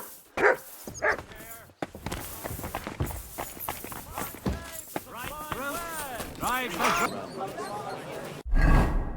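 A dog in the medieval world of Kingdom Come: Deliverance 2 gives a few short, nearby barks and yips over footsteps, while people talk through most of the scene.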